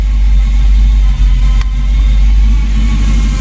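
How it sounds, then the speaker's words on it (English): A K5 Blazer truck engine runs steadily at idle with a heavy low rumble and a faint rattling clatter from a noisy timing gear throughout, close by, no voices. "Got that noisy timing gear."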